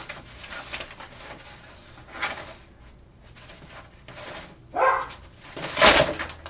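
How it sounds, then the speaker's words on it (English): An old dog with dementia barks at a wall upstairs. A few muffled, distant barks come at irregular intervals over a steady background hum in a room below. "He's barking at the wall."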